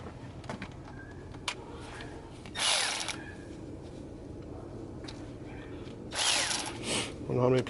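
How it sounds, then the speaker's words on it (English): A power tool tightens a car battery cable on a 2001 Toyota Sienna, with two short bursts of whirring near the middle and end over a quiet garage background and brief handling noises. "I'm going to tighten up that battery cable"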